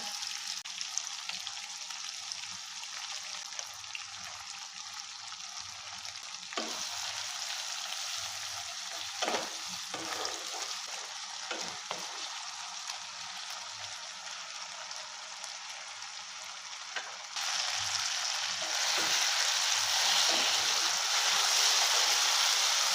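Steady sizzling of ginger and garlic paste frying with melted tomato in a pan, with occasional clicks and scrapes of stirring; the sizzle grows louder near the end.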